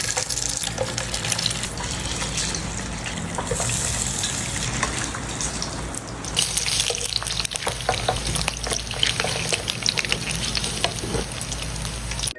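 Food for breakfast fries in a pan with a lively, crackling sizzle close by, steady throughout and picking up a busier texture about halfway through.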